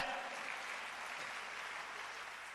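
An audience applauds at a government laptop distribution ceremony held by Pakistan's prime minister, a dense sustained clapping from a large crowd that tapers slightly.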